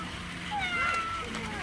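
A cat toy at a toy store in Northern Ireland gives a single drawn-out meow with rising and falling pitch, fairly close and clear over quiet shop background.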